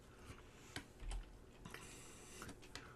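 Fingers tap out short bursts on a computer keyboard, quiet clicking keystrokes with a few sharper presses, close and alone.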